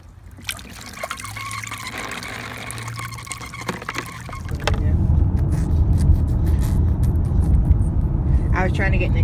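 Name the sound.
child imitating car sounds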